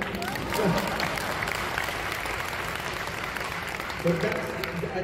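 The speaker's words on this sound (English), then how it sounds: "Round of applause." Audience applause at a convention fills the room, a steady wash of many hands clapping that swells slightly near the start and again near the end, with some voices mixed in underneath.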